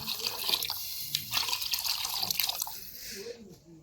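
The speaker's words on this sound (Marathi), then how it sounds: "आता मी याच्यामध्ये आपलं पाणी ॲड करून घेतो आहे, आपल्याला पाहिजे तेवढं" Water is poured into a khichdi pot over a wood-fired village stove, a steady close splashing and trickling that runs throughout and then stops near the end.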